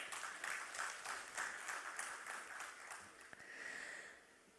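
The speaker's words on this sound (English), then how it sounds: "can I once again hear a huge round of applause for yourself?" Applause from the audience at an insurance awards ceremony, a scattered, moderately dense clapping that is fairly faint and fades toward the end.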